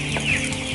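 Chickens cluck on a poultry farm where part of the land is used to raise broiler hens, a dense steady clucking chorus close by with one brief higher call standing out.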